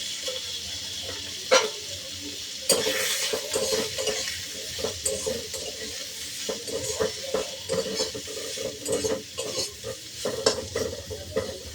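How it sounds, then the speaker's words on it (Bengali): Pointed gourd (potol) seasoned with salt and turmeric fries in a pan, a continuous sizzle broken by repeated scraping and knocking of a spatula as it is stirred. "যতটা ভালো করে লাল লাল করে ভাজা হবে তত স্বাদটা ভালো আসবে"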